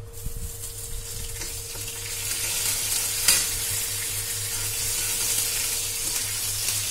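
Curry leaves dropped into hot oil for instant kadhi, a steady close sizzle that swells after a brief sharp clatter midway and continues evenly, with faint stirring and a low background hum.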